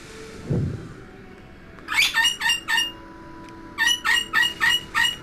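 Two bursts of rapid clucking, each a string of four or five calls, from a nearby bird after a soft thud.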